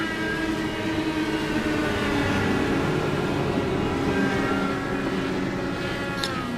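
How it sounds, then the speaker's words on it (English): IndyCar race car engines at Chicagoland drone and hum steadily at a distance behind the pace car, a continuous mechanical roar without clear breaks. "you hear a lot of motors revving up out there"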